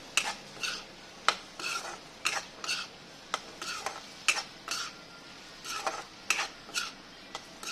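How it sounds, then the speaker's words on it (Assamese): Ginger is stirred and fried in a pan, with a spatula scraping the metal in repeated rhythmic strokes over a faint sizzle, close up with no talk. "এতিয়া আদাখিনি দি মই অকণমান সময় এইখিনি ভাজ খাবলৈ দিম।"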